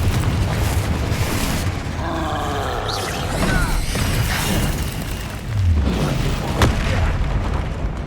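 Confringo fire spell blasts in the Hogwarts Legacy video game during a troll fight, loud booming bursts over a dense, continuous roar of game combat noise with whooshing swells and a sharp crack near the end.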